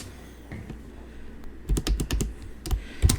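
Notes being typed on a computer keyboard, quick irregular clusters of sharp key clicks, close and fairly quiet, starting sparse and then coming in faster bursts.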